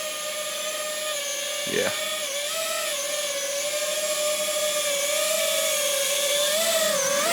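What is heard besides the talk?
GEPRC Smart35 sub-250g FPV drone flying and landing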